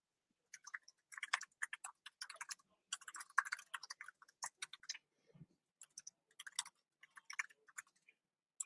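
Fingers tap a computer keyboard in quick irregular bursts with short pauses, close and fairly quiet, with no talking.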